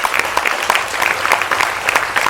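Steady audience applause from a crowd at a televised Indian political debate on the India-Pakistan conflict, dense continuous clapping with no break across the short stretch.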